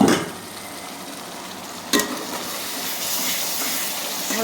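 Spices being fried and stirred down in a pan, a continuous close hissing sizzle with a brief scrape or clatter partway through, no voices.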